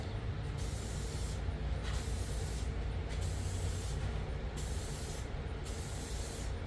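Clear coat sprays onto FC RX7 car headlights in a series of short, hissing aerosol bursts. The bursts come in an even rhythm, each lasting roughly a second, over a faint steady background.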